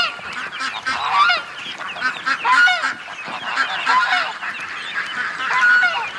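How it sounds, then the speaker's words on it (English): Geese honk loudly and repeatedly among a mixed flock of ducks, overlapping calls rising in excited bursts close by. "Oh, the geese are running with the ducks, guys."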